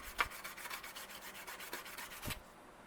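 A circuit board is scrubbed with rubbing alcohol, a brush rasping back and forth in a fast, even rhythm of strokes, close up and alone, fading out at the end.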